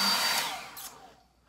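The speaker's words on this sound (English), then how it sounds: "we gotta blow dry it out and strum our hands through it. I got my blow dryer." A handheld blow dryer drying a synthetic wig, a close, bright whooshing airflow that fades and tapers off over about a second and a half as it is switched off or moved away.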